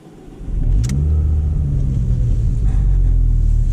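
A Ford Focus ST engine rumbles loudly from inside the car while driving, a deep steady drone that swells as the car pulls away and then holds at a strong, even level.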